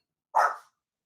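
A single short dog bark in a home, loud and close, lasting under half a second and then silence.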